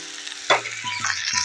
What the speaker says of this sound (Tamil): அடுத்து இப்போ வெங்காயம் போட்டுக்கலாம்.